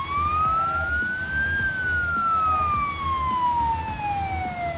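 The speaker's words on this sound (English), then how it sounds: "I think the ambulance is on its way." An ambulance siren in the video game BeamNG.drive wails, sweeping slowly up and then gradually down in pitch, loud and continuous over a low engine rumble.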